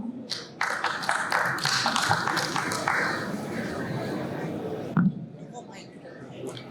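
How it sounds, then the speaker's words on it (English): An audience at a Web3 conference in India claps in a burst of applause that gradually thins out, with a brief voice and some shuffling near the end. "Give a huge round of applause to Tanvi Ratna."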